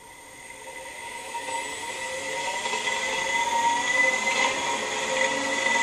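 AC electric motor on a motor controller being eased up on the throttle, producing a rising whine with steady tonal harmonics that builds gradually in loudness, with no voices.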